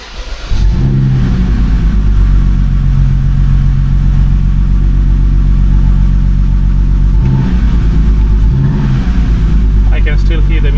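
A BMW N52 inline-six with a misfire runs steadily at close range, its low, uneven drone continuous throughout, with brief speech breaking in over the engine.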